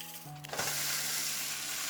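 A sudden loud sizzle erupts as sausage potato pancake batter hits a hot frying pan, then continues as a steady, close frying hiss.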